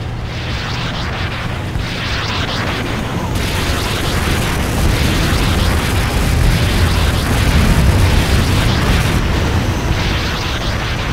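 Long, dense rumbling blasts and roaring destruction as a Nod structure is blown apart in the video game Command & Conquer Renegade, loud and sustained with layered booms throughout.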